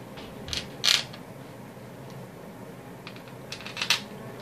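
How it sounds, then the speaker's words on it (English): Screws fitted with washers pushed through the back of an Xbox 360 board during heat sink screw replacement, giving a few quiet metallic clicks and taps scattered over the clip. "So you put all these screws with the washers through the back of the board like that."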